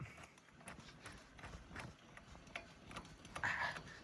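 A hand crank raising a grain auger clicks in a faint, steady rhythm, each turn giving a light mechanical tick, with a slightly louder clunk near the end.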